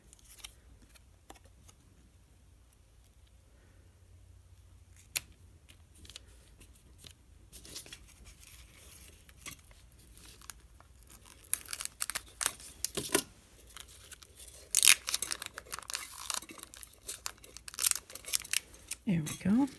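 Scissors snip paper and tape for a handmade scratch-off card. Faint, crisp cuts and crinkles come up close in the latter half, after a long, quiet stretch of light handling.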